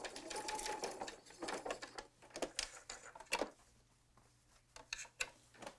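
Sewing machine stitching through thick layers of quilt fabric, a close, quiet run of rapid needle clatter that strains and slows over a bulky seam, then resumes in short bursts.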